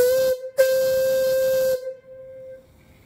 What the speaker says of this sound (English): The whistle is really nice, 3-inch whistle, great sound